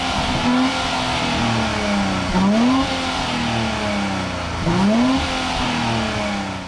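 A 2023 Nissan Z's turbocharged engine revs up twice in close succession, the pitch climbing and falling back each time over a steady idle, loud and near with no talk.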